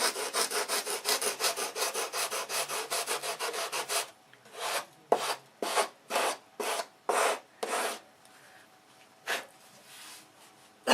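A wooden model wing tip is rubbed with rapid, continuous back-and-forth sanding strokes, then slower, separate strokes with short pauses between them, close and clear with no talking.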